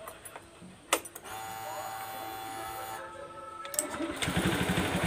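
A Honda Beat Street eSP motorcycle's electric starter whines for a couple of seconds after a click, then the engine catches and settles into a close, rapid idle pulse.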